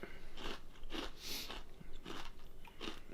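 Parmesan cheese crisps from Costco, eaten as a keto snack, crunch loudly in the mouth, with about six bursts of biting and chewing spread at a steady pace and no talking.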